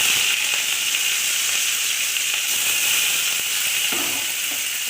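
Sliced onions and dried red chillies dropped into hot oil in a home kitchen pan, giving a loud, steady, close-up sizzle and hiss that runs unbroken the whole time.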